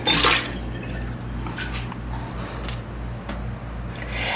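Cold tap water runs into a bowl to make an ice bath for boiled eggs, a steady gurgling pour with a few drips and splashes, no talking.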